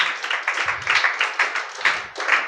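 A church congregation claps together in a quick, even rhythm, a dense patter of hand claps that stays close and lively for a couple of seconds with a brief low thump in between.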